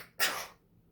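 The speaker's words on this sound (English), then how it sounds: "he said with a sawdusty sneeze" A single short, breathy sneeze-like burst, soft and close, followed by quiet.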